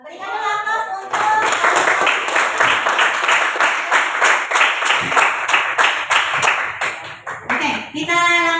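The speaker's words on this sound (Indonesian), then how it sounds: "Berikan dulu aplaus untuk" A classroom group claps for a student group presentation, a loud, dense burst of many hands that starts abruptly and keeps going for several seconds before tapering, with voices briefly heard at the start and the end.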